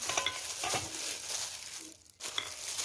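Shan cucumber salad being stirred together in a bowl, with crinkly, wet mixing and scraping that runs steadily close up, pausing briefly near the end before resuming.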